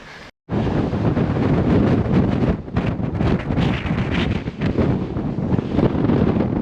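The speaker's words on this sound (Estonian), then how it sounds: "see tuul lükkab meid kohe ümber" Strong wind at a coastal lookout in southern Sweden buffets the microphone in loud, continuous roaring gusts after a brief quieter moment at the start.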